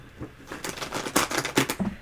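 A deck of tarot cards is riffled and shuffled by hand, a run of quick crisp flutters and soft slaps at close range, fairly quiet with no talking.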